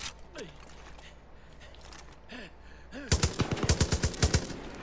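Turret gunfire from the Far Cry 5 bank heist mission bursts out as a rapid, loud string of about a dozen close shots near the end, after quieter stretches with occasional whooshing game effects.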